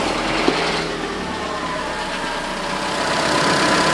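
A car engine, just repaired after an oil leak, runs at a steady idle with a loud, even mechanical hum and a faint click near the start.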